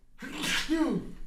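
A single sharp sneeze from a man, loud and close, with a quick intake of breath followed by an explosive burst that falls away.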